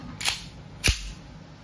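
Two sharp, close shots from an Umarex Colt M45 CQBP airgun, about half a second apart, each a short crisp crack with a faint tail and no talking.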